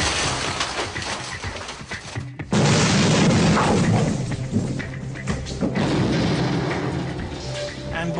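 A bomb detonates in a blast test against a protective curtain, heard as a sudden heavy boom that gives way to a sustained roaring rumble. A narrator's voice runs over the sound.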